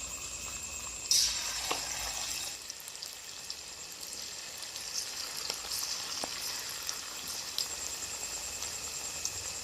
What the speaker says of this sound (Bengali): কড়াইতে তেলও কিন্তু গরম হয়ে গেছে, আমি তেলও পরিমাণ মতন দিয়ে দিয়েছি। তো দেখো আমি এখন এক এক করে কিন্তু আমি ছেড়ে দেব।